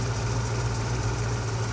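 A car engine fitted with a Holley carburetor idles at a steady low rumble, chugging slightly and evenly throughout with no other sounds.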